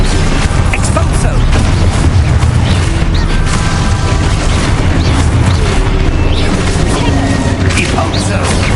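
The Exposo spell exploding in the game Hogwarts Legacy: loud, dense booming blasts and crackling debris fill the whole stretch, with a voice briefly heard over them.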